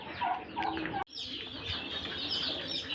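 Broods of native chicken and turkey chicks chirp and peep continuously at close range, a busy overlapping chorus of small calls with a brief break partway through.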